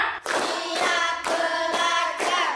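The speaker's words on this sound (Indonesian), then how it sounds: "Tepuk lima." Children clap in steady rhythm in an elementary school classroom, five evenly spaced bursts of claps ringing close and bright with little talk in between.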